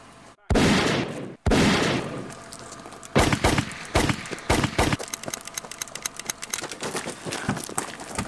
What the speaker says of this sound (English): I was handing over the stuff when someone started shooting.